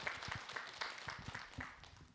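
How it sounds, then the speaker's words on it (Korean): Audience applause at a Buddhist monk's question-and-answer lecture, a fairly faint, even patter of hand claps with distinct individual hits, heard from a distance. "네 박수 하세요"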